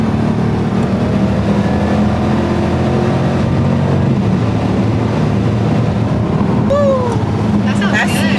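A Dodge Durango SRT 392 engine revving in 110-degree heat, a loud, steady low rumble that holds throughout, partly roughened by wind noise, with voices talking over it.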